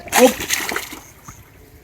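A person dunks into water with one loud splash at the start, settling into softer sloshing as voices talk over it.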